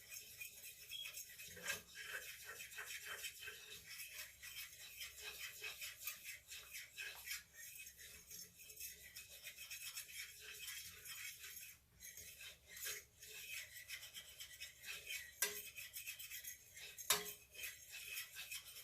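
A fork whisks a roux for Alfredo sauce in a pan, giving a steady faint scraping and rattling that keeps on with small clinks and no talk.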